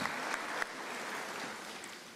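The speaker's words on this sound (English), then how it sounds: "we need to give that a round of applause" Steady applause from a large audience at an academic-year closing ceremony, a dense continuous patter of clapping at moderate distance, with no voices over it.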